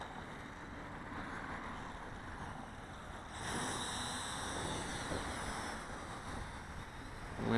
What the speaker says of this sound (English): Wind's kicking up a little bit